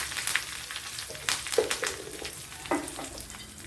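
Dried red chilies and curry leaves crackle and sizzle as they fry in hot oil for a Kerala sardine curry, with sharp spitting pops and occasional stirring over a steady hiss.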